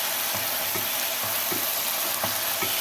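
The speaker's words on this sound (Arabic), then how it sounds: "وتديها تقليبه كده حلوه" Spiced chicken sizzles steadily in a frying pan while a utensil stirs it, giving soft rhythmic scraping strokes about every half second over continuous close frying hiss.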